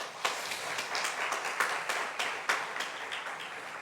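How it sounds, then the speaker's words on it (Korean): Applause from a church congregation at a Korean Presbyterian gathering, a continuous patter of many hands clapping with a few sharper claps standing out, moderately loud and heard alone for about four seconds. "먼저 박수 한번 하겠습니다."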